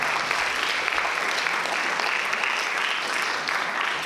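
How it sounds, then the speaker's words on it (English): An audience at a multicultural student speech festival in a performing arts center claps steadily and loudly for about four seconds, a dense, even wash of applause with no voices standing out. "Let's give them a round of applause."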